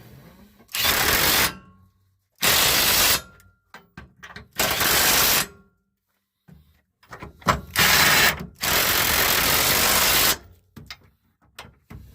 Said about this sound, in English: Alright, now I'm going to take my